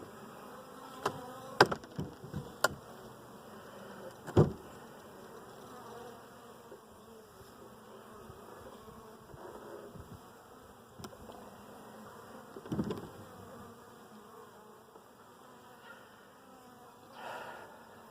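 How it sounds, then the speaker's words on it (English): Honey bees buzz steadily at close range, a dense drone with a few louder bursts as individual bees pass near. "A lot of the bees are home today."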